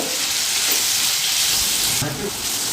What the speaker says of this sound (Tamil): இப்போ மூணு தக்காளி கட் பண்ணி எடுத்து வச்சுருக்கேன் அதை சேர்த்துக்கிடலாம்